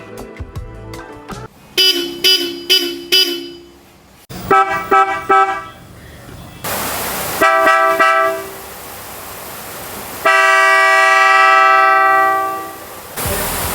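Two sets of Mitsuba Dolce III horns fitted on a Toyota Camry honk repeatedly, loud and close: bursts of short rhythmic toots, then longer sustained blasts, with a held final honk that cuts off.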